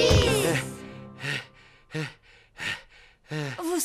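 Cartoon pig character from Peppa Pig, dubbed in French, panting out of breath: several loud, breathy gasping exhalations in an uneven rhythm, closely miked, with voiced vocal sounds mixed in.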